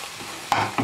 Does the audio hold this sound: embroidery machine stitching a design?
no